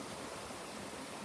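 Shallow creek water runs over rocks at a crossing in Aylesworth Park, a faint, steady rushing wash with no voices.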